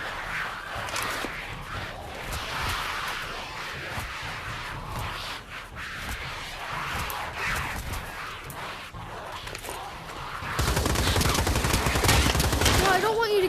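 Rapid minigun fire rattles in the Pavlov VR shooter, a dense continuous fusillade that swells louder near the end, with voices talking over the shooting.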